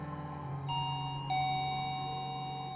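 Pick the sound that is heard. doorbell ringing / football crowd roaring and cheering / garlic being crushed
doorbell ringing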